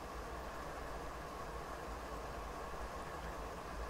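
A freight train in a simulator game rolling through a Canadian mountain pass, a low steady rumble and hiss of wheels and engine, constant and unbroken with no voices.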